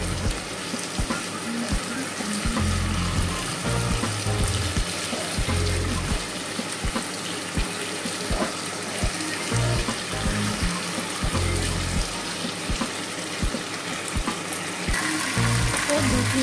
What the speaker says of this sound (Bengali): তারপরে এর মধ্যে একটু জল অ্যাড করব।